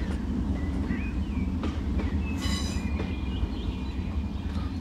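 Two locomotives pulling a few wagons on the Corris narrow-gauge line in Train Simulator 2019, a steady rumbling roll with brief wheel squeals and clicks over the track, continuous and moderately loud.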